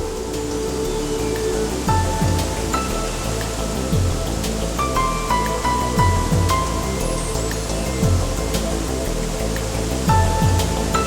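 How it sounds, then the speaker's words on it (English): Skogafoss, a huge waterfall in Iceland dropping 60 meters, gives a steady, dense roar of rushing water that holds constant throughout, with faint tonal sounds layered over it. "In this area is one of the island's most gigantic and highest waterfalls, the Skogafoss."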